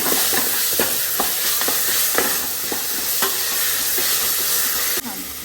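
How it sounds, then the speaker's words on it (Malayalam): Garlic paste being stirred with oil and onions in a pan for Arabic kabsa, a steady frying sizzle broken by repeated scraping strokes of a spoon, ending with a sharp knock. "ഗാർലിക് പേസ്റ്റ് ഇതിട്ടിട്ട് നല്ലതുപോലെ ഒന്ന് എണ്ണയും സവാളയൊക്കെ ഇട്ടിട്ട് മിക്സ് ചെയ്യും"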